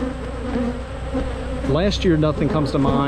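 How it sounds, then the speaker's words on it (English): Dense, steady buzzing of an aggressive honey bee colony in midsummer, bees swarming close around the recorder and continuing under someone talking throughout. "The bees are trying to sting the lens."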